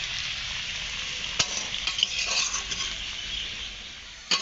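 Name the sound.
potatoes frying in a pan for meat curry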